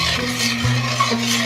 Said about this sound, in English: Just pour that in and stir it till it's thick.